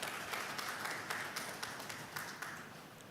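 Applause from a conference audience welcoming the panel members at an event on political communication, a faint, steady patter of clapping with scattered sharper claps throughout.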